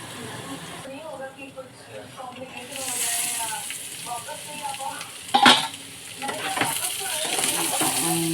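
Vegetarian mock-meat curry sautéing in a pan, a continuous close sizzle with stirring scrapes and one sharp clatter of utensil on pan, while someone talks over it.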